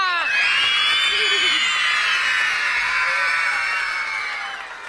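A studio audience of girls in a Persian children's show cheers loudly, a sustained high-pitched scream and whoop that slowly fades over about five seconds.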